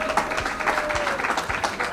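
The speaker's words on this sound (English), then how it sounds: "Give yourself a round of applause for being here." Applause from the audience at a poetry slam and art showcase, an even, moderately loud crowd clapping with a faint tonal hum underneath.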